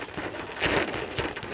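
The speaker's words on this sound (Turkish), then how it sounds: "Çok kötü yağmur yağıyor." Heavy rain pours down steadily, a dense close hiss of drops hitting surfaces with no pauses throughout the short stretch.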